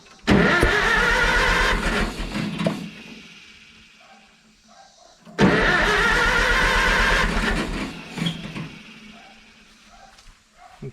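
A Farmall Super M tractor engine cranking and catching twice, each attempt a loud churning crank that fires briefly, runs rough, then dies away, with a pause between tries.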